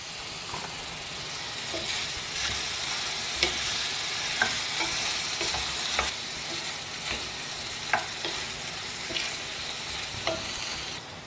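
Ridge gourd sizzles in a hot pan with salt, a steady frying hiss broken by sharp clicks as the pieces are stirred and turned.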